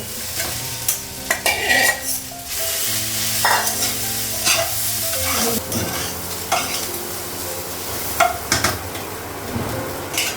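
Potatoes sizzle in a wok while a utensil stirs and scrapes repeatedly, with sharp clinks and knocks against the metal, no voices.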